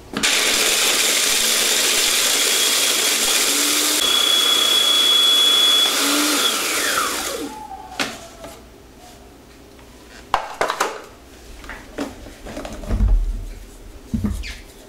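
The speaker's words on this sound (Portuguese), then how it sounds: "E vamos moer então os biscoitos." A kitchen appliance grinding biscuits for homemade paçoca roars loudly for about seven seconds with a rising whine, then stops, followed by scattered clinks and handling noises.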